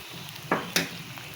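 Beef and onions in a pan, sprinkled with cumin powder, sizzle faintly and steadily in the background, broken by two sharp stirring scrapes close together.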